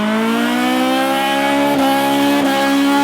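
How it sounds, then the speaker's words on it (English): Cars doing burnouts at the H2Oi car event, a loud sustained engine roar at high revs with a steady screeching whine of spinning tires, two brief dips as the pitch shifts. "then it starts right back up and the burnouts continue"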